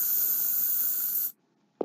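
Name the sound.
spray can spraying in a video game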